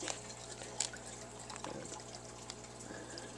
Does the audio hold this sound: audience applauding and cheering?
no